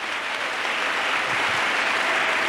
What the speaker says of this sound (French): Together, let's clap.